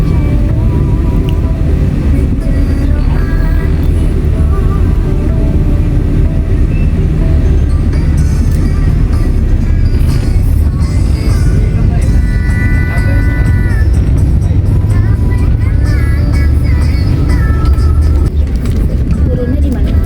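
An SS Transport super executive bus rolling along a road, a loud, steady engine and road rumble filling the whole stretch with continuous low drone and occasional rattles.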